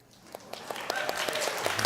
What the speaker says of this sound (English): That's the most applause we've had this whole time.